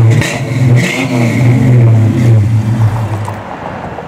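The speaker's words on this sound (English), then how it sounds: "Got a cool exhaust in the back." A 1994 Ford Mustang with a 4.6 V8 revs through its aftermarket exhaust, a loud, close, deep rumble rising and falling in pitch, then cutting off abruptly near the end.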